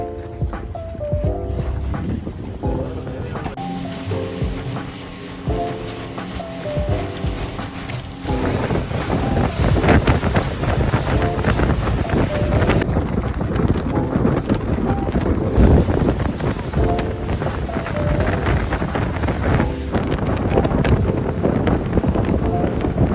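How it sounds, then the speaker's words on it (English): A speedboat ride to Meedhoo in Addu Atoll, Maldives: loud, steady wind buffeting the microphone over a continuous engine drone and rushing water, with no one talking. "We're just about to go onto a speedboat to get to Meedhoo."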